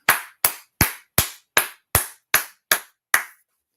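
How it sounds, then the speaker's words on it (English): Nine sharp, evenly spaced claps ring out in a steady rhythm, each a crisp distinct strike, with no other sound between them. "Clap it up."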